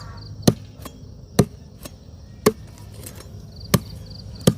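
Sharp, heavy blows chop into a tree stump, about six strikes at uneven intervals of roughly a second, each a crisp close impact over quiet outdoor background.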